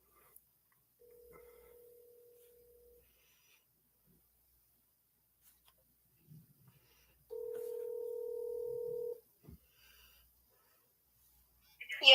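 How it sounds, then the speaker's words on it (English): A telephone line sounds a steady electronic tone twice, first faint and brief, then louder for about two seconds, amid quiet pauses and a few small handling noises. "Fixing to dial a phone number"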